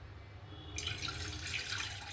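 Water pours from a tap over poha in a kitchen, a steady close hissing splash that starts suddenly and runs on alone.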